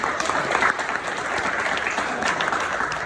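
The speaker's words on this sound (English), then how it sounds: "Please give a round of applause one more time" Loud, dense audience applause at a founders community masterclass in Dubai as a participant is called up to the stage, sustained clapping from many hands throughout with faint voices mixed in.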